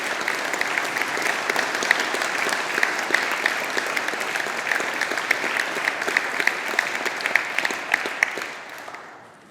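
Graduates and guests at a 2021 Faculty of Engineering graduation ceremony give a steady, loud round of applause with crisp individual claps, holding evenly before tapering off at the end.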